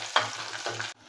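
Small shallots, curry leaves and green chillies fry in a pan for a cabbage poriyal, a short close sizzle with two quick stirring scrapes before it cuts off.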